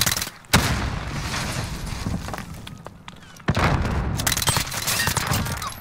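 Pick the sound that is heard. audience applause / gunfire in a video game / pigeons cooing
gunfire in a video game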